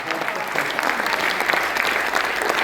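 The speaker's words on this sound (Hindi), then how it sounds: "एक बार दोनों हाथ उठाकर तालियां उन खिलाड़ियों के लिए बजाइए" An audience at a Delhi poetry gathering claps loudly and steadily for the Indian cricket players, sustained applause with sharper individual claps poking through the even roar.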